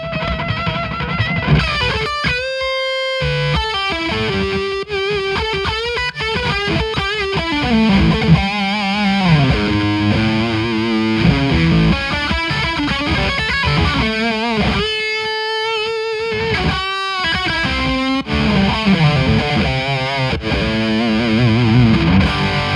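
Heavily distorted electric guitar plays chords and riffs through the fourth, high-gain channel of a Diezel VH-X amp, with short pauses between phrases and no voices.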